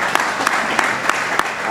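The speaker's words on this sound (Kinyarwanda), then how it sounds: "ndabasabe mukomere amashyi cyane" Loud audience applause at an outdoor music show event in Rutsiro district, a dense, steady wash of clapping with a few sharper accents, filling the short moment without pause.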